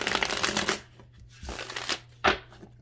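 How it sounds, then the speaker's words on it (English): A deck of tarot cards is shuffled up close, giving a few quick papery riffling bursts separated by short pauses, with the last burst sharp and loud. "let's get one more shuffle and then we'll go ahead and cut the deck"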